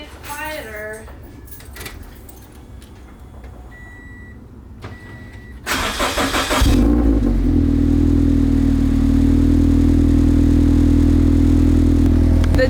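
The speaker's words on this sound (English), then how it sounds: "You guys already know we gotta do a cold start." A Subaru BRZ/FRS fitted with unequal length headers cold-starts after a short crank, settling into a loud, steady high idle; faint clatter and handling noises come first.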